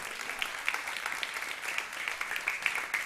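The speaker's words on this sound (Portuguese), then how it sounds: "Você pode aplaudir ao Senhor por isto?" A church congregation applauds during a worship service, a steady wash of many hands clapping at moderate distance throughout.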